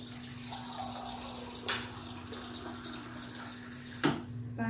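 Water poured into a cornstarch and egg mixture for buko maja blanca, a faint, soft trickle with a couple of brief splashing pours, no talk.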